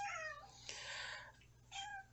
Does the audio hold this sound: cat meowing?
yes